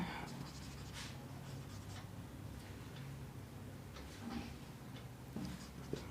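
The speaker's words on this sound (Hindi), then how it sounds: "तो यहाँ लिख देंगे" Chalk scratching and tapping across a board during a Class 10 maths lecture on real numbers, a steady run of faint strokes and taps in a room with low background hum.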